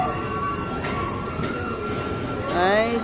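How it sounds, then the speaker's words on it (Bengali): A train slows to a stop inside a tunnel before Mumbai, its wheels giving off loud, sustained metallic squeals over a continuous rumbling roar that rises near the end. "দাঁড়িয়ে গেল ট্রেন,"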